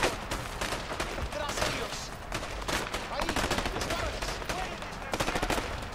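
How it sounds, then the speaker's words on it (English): Rapid gunfire from a shotgun in the co-op video game A Way Out, a dense, loud stream of blasts and impacts filling the scene with hardly a pause, voices faint underneath. "shotgun!"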